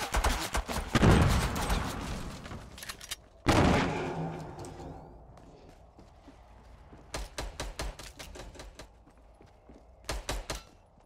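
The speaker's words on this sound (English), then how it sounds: "Are you shooting? What's going on, man? Rory's shooting." Gunfire in the Fortnite video game, with dense bursts of rapid shots that come in clusters, the first loud and close, then sharp volleys separated by quieter gaps.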